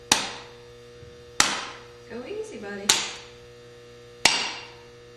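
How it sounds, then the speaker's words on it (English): A hammer strikes peppermint candies inside a bag with four sharp, separate cracks spread over a few seconds, close and distinct, with a short spoken remark between blows. "watch where you're swinging your hammer."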